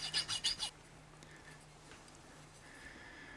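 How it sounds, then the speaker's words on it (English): A file rasps quickly across a silver-soldered pipe joint to clean it up. Five brisk, close strokes come at the start, then the sound drops to a near-quiet background with a faint hum. "With all the filing to get it all nice and clean"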